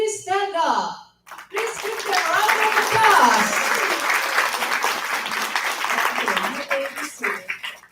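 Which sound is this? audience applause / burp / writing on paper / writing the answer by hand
audience applause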